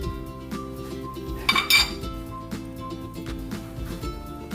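Metal cooking pot and lid clink in a kitchen while bulanglang vegetable soup with eggplant and moringa is cooked, with a brief cluster of bright clatter midway over steady background kitchen noise.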